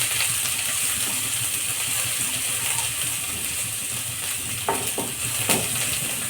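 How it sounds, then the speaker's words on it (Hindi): Crushed spices, pounded in a mortar, stir-fry gently in a pan for green pea ghugni, a steady soft sizzle running throughout with a few brief scraping knocks of stirring near the end. "इसको चला के हल्का हल्का फ्राई कर लेंगे"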